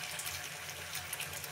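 Tap water runs steadily into a bowl for washing produce, a soft continuous splashing hiss at moderate distance with no talk over it.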